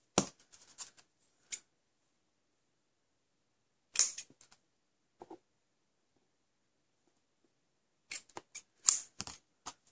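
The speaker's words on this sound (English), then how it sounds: "let me just snip this end off." Scissors snip the loose end of a tied ribbon while finishing a Stampin' Up! treasure box, heard as a few sharp close cuts and rustles separated by silence.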